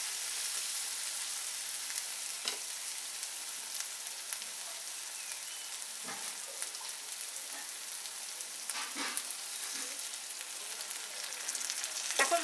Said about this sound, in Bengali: এখন মশলাটাকে একটু ভালো করে কষিয়ে নিচ্ছি।